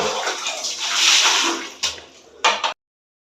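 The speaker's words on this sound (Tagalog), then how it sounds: "Ayan, maghugas muna tayo, guys." Running water splashes loudly and close for a couple of seconds during washing up, then a few knocks and bursts before it cuts to silence, with no talking.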